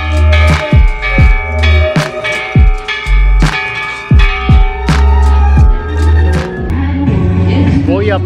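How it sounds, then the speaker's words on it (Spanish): The Hiroshima Peace Bell in Japan being struck, repeated heavy strikes roughly once a second, each with a dull thunk and a ringing hum that overlaps the next, loud and close, ending in a sustained resonant drone. "Sonar la campana de la paz."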